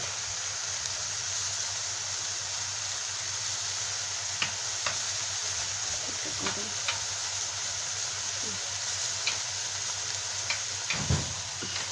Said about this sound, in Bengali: পেঁয়াজ বাটা দিয়ে ভালো করে কষাই নেব